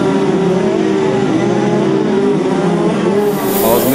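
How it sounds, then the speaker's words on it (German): A Swiss Auto 250 racing kart with a four-stroke engine drones steadily and loudly throughout, its revving pitch rising and falling slightly, with faint voices mixed in under the motor. "Marilyn Niederhauser fährt in der Swiss Auto 250 Kategorie, das wäre das Kart hier."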